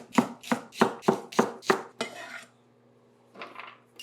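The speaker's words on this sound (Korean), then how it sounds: "지금 저기 2분 30초 돌아가는 동안에 대파를 다 썰 겁니다" A knife chops the white stalk of green onion on a cutting board in six even, crisp strokes, followed by a short scrape and a softer knock after a pause.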